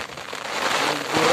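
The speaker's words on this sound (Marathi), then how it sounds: "पाऊस वाढत चाललाय" Monsoon rain patters steadily on a surface in open farmland, a dense crackling hiss that grows a little louder over a second or so.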